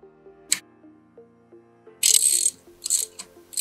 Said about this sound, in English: we'll just tighten these up. 6mm Allen key and a 13mm spanner.